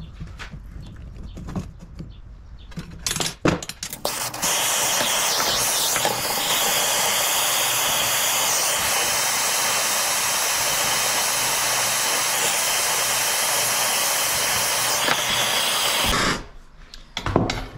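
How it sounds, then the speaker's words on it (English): Torch heating a Polaris hub to release a bearing, a loud steady roaring hiss of the flame running continuously for about twelve seconds, with clanks and handling noises before and after. "Then I'm going to warm this up with a torch."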